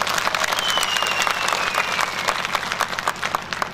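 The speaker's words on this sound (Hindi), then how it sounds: "आपने तालियां बजाकर, नारे लगाकर बहुत ही गर्मजोशी के साथ स्वागत किया है" Crowd at a public speech by Rajnath Singh applauding warmly: dense, loud clapping from many hands, close and continuous throughout, with a faint whistle-like tone gliding through it.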